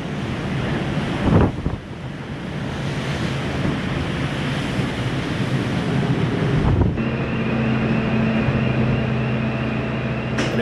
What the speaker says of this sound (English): It's getting quite breezy, there's lots of white horses in the sea.